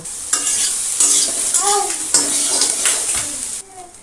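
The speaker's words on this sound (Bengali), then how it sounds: "সয়াবিনগুলো একটু ভেজে নেব।" Soybean chunks with salt and turmeric frying in oil in a wok, a close, loud sizzle broken by repeated scraping stirs of a spatula against the pan, ending more quietly as the stirring stops.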